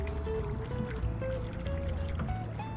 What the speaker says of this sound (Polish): O, łódka płynie!